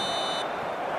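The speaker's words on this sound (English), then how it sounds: "And the whistle goes for half-time" Referee's whistle blowing for half-time in eFootball PES 2020, a single sustained shrill tone lasting about half a second over steady crowd noise, then cutting off.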